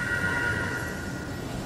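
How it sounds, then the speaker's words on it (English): In the Fortnite video game, a siren sounds as a steady sustained wailing tone with even loudness across the short span, with no talk over it. "That's a siren!"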